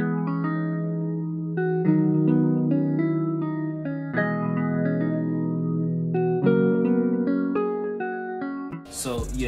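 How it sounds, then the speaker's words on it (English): Jazz guitar pick B patch from Omnisphere with a phaser, playing a clean plucked melodic line with sustained notes and a soft washed-out swirl, steady and mid-level, ending with a brief noisy burst. "It's called the jazz guitar pick B from Omnisphere"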